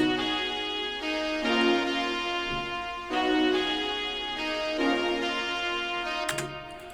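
Layered synth saw-wave leads with a simple chorus effect play sustained chords in a steady phrase, bright and full, each chord held for about a second and a half before the next, ending with a brief choppy stutter.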